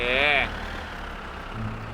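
A tractor engine in the driving game My Summer Car runs at a low, steady idle throughout, heard close and under a person speaking briefly.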